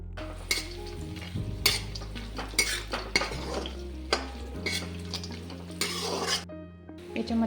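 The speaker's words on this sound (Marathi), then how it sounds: "कांदा छान असा लालसर असा परतून घ्यायचा. शेंगदाणे छान असे परतून घ्यायचे." Onion and peanuts being stir-fried in a pan, the spoon scraping and clinking against the metal in repeated bursts over a low steady frying sizzle, close and clear with no talk.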